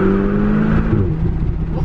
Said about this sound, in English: Little third gear pull for the boys.